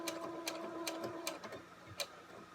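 Domestic sewing machine stitching and back-stitching a pleated fabric face mask, a steady mechanical whir with quick rhythmic ticks and a few sharper clicks, fairly quiet and close.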